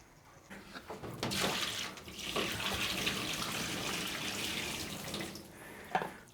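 Tap water runs steadily into a sink while developed color film is washed, a continuous moderate splashing flow lasting several seconds.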